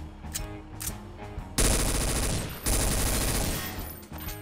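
An SG-552 rifle in Garry's Mod VR fires sustained automatic bursts, loud and dense, with a brief pause between two long strings of rapid shots after some lighter clatter.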